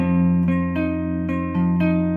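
Electric guitar notes picked in a steady repeating pattern, each new note ringing over sustained strings, clear and close with no voices.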